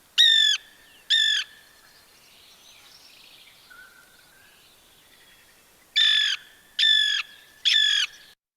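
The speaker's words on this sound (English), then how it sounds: "It is the Lewis's woodpecker." A Lewis's woodpecker gives harsh, squawking calls, two near the start and a quick run of three later, each short and rasping with a quiet stretch between.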